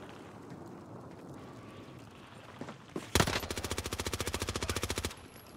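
Rapid automatic gunfire in Call of Duty Warzone on Rebirth Island, a sharp opening shot followed by a steady burst of about two seconds of evenly spaced rounds, loud and close over a low ambient game background.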